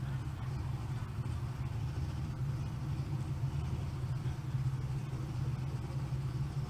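Fox body drag car idling in the left lane at a drag strip, a low steady engine rumble held at a distance under broad crowd and track ambience, no clear revving.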